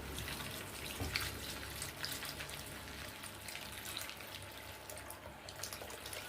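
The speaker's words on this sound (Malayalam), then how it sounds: "ഇനി നമുക്ക് ഇതിലേക്ക് ചേർക്കേണ്ടത് പുളിച്ച കഞ്ഞിവെള്ളമാണ്" Day-old fermented rice water is poured into brinjal plant fertilizer, making a soft continuous trickle and splash that runs quietly and evenly through the whole stretch.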